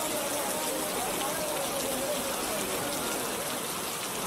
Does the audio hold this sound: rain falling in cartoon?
yes